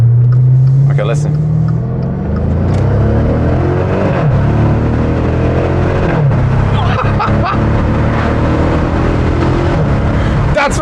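Maserati Quattroporte GTS exhaust rising in pitch through repeated accelerations on the Autobahn, each pull climbing then dropping at a gear change, loud and close from inside the cabin.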